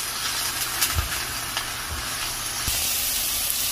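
Sliced onions hit hot oil in a pan, producing a steady, broad hiss and sizzle throughout, with a few soft knocks and clatters from the pan.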